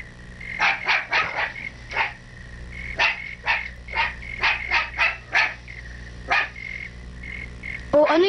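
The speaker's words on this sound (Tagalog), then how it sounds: "Bakit tumataw lang aso?" A dog barks repeatedly in a cartoon scene, about a dozen sharp barks in uneven bursts over several seconds, moderately near and alone with no talk, ending in a brief louder noise.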